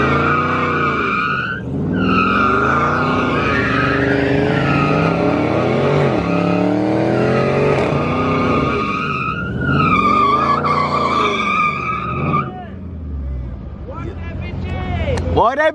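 At a street takeover, cars race and slide, with loud engines revving up and down and long tire squeals that swell and fade over many seconds, voices faintly in the background.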